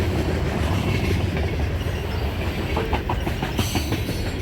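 Former BNSF freight locomotives now leased under WFRX rumble past with a heavy, continuous roar and rhythmic clickety-clack of wheels over rail joints, close and loud with no talking.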